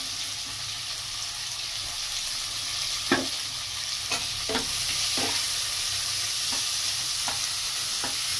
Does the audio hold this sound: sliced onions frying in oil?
yes